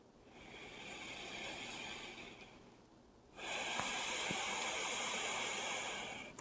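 Two slow, close nasal breaths, a soft airy inhale through the nostrils followed after a pause by a stronger, hissing exhale, with nothing else audible.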